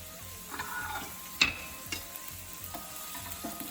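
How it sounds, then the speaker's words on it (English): Carrots sauteing in a pan for a coconut curry shrimp dish, a quiet steady sizzle with soft scrapes and clinks of stirring, including one sharp utensil tap against the pan. "I'm gonna saute the carrots for about 6 minutes."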